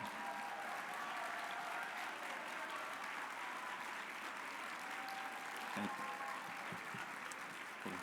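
A banquet crowd at a youth and young adults awards convention gives graduates a warm round of applause, a sustained, even roar of many hands clapping, steady and moderately distant, with faint voices underneath.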